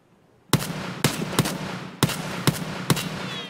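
ASH-12 rifle in Escape From Tarkov fires six loud, sharp single shots spaced unevenly over about three seconds, each a hard crack with a short tail, close and clear with no talking.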